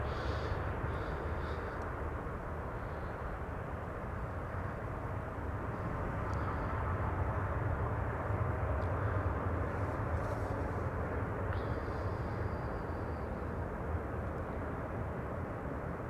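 A Helvetic Airways airliner arriving from Zurich at Amsterdam Schiphol gives a broad, steady jet roar that holds loud and close throughout, with no voices over it.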